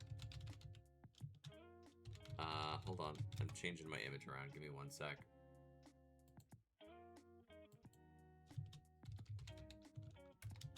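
A streamer types on a computer keyboard in quick bursts of close clicking, mostly beneath and between stretches of her own talking, with a short run of keystrokes near the end.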